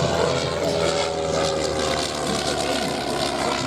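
A vintage propeller aircraft drones overhead at the Shuttleworth airshow, a steady loud engine hum with a slight rising and falling pitch throughout.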